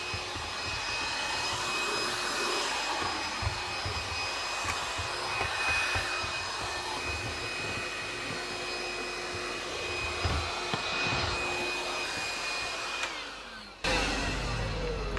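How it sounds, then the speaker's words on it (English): A small handheld vacuum cleaner whirs steadily and close by on a boat with a high whine, running nonstop for several seconds before a sudden loud clunk at the end. "just use this little vacuum and it's pretty good."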